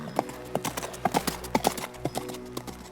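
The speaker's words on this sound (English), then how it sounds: "nodded, and then turned his horse and rode away" Horse hooves clip-clop in a steady, uneven rhythm as a rider rides away in a dark fantasy setting, close and fairly loud at first with a low background hum.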